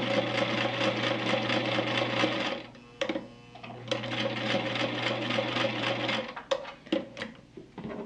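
Sewing machine stitching quilt fabric for an hourglass block, running in a steady, close mechanical whir for about six seconds, then stopping, followed by a few light clicks and handling noises.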